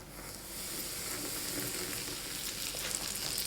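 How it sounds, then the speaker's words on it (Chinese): Hot oil poured over flour in a bowl hisses and sizzles steadily up close, a bright continuous crackle that holds for a few seconds with no talking. "烧好的热油倒在面粉上"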